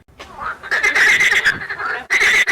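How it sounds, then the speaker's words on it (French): Frogs croak loudly at close range by the pond of Santa at Niangoloko, with rapid rasping calls in several bursts separated by short pauses. "la grenouille devient une sorte de sentinelle pour la localité, envoyant des alertes aux anciens à travers son coassement."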